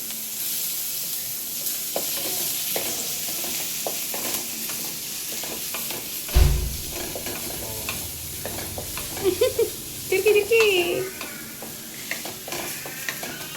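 Crushed garlic sizzling in hot oil in a pan while it is stirred, with steady frying hiss, scraping utensil strokes and a louder burst of sizzle midway, no voices.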